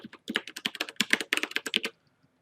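Rapid typing on a computer keyboard while entering a research paper's details into a search tool, a quick irregular run of close, crisp key clicks lasting about two seconds before stopping.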